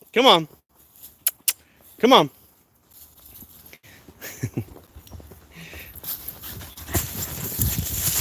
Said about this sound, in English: Oh, cute dog.